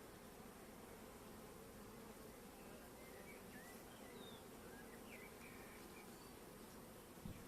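Honeybees buzzing at a hive just given a new Anatolian queen, a steady close drone with a few individual bees whining past, continuous and fairly faint, with no talk.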